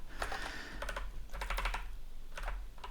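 Computer keyboard keys clatter in quick bursts as code is typed, clusters of close, fairly soft clicks separated by short pauses, with no talking.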